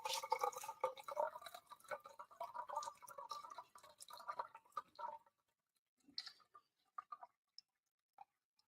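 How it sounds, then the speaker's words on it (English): Freshly boiled kettle water pours into pizza dough in a quiet kitchen: a soft, continuous trickling stream for about five seconds, then a few scattered drips and small wet sounds. "So I need 343 grams of boiling water, which is just boiled in the kettle."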